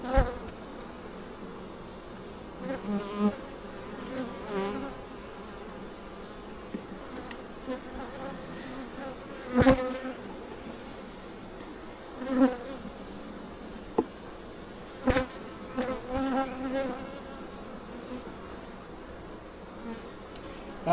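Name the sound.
honey bees buzzing in a nuc hive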